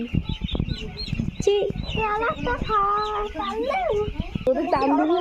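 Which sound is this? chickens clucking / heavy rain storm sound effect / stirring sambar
chickens clucking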